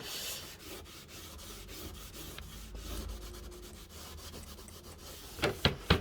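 A sponge scrubs dried paint off metal tools in close, steady rubbing strokes, fairly quiet, ending with a few sharp clicks and taps.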